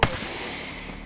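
A single sharp gunshot in the tactical shooter video game Ghost Recon Breakpoint, a loud crack with a brief ringing decay, heard alone.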